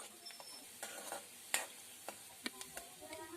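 Chopped onion and half a spoon of panch phoron fry in hot oil, giving a faint, soft sizzle broken by a few sharp clicks and scrapes of stirring, heard close and alone.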